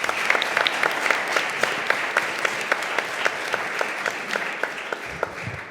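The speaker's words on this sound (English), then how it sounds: "I think we should have another round of applause for the presenters" An audience at a conference session applauds its presenters, a steady sustained round of many hands clapping close by, continuing evenly throughout with no talking over it.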